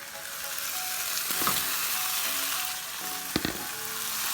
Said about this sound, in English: So all I'm gonna do now is add those meatballs in.